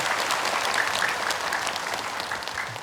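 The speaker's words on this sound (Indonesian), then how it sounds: "Boleh tepuk tangan, Bu." Studio audience applauds on the Siraman Qolbu morning religious talk show, a steady dense wash of clapping held throughout and tapering slightly at the end, with no talk over it.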